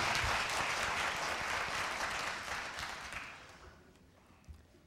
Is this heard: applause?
yes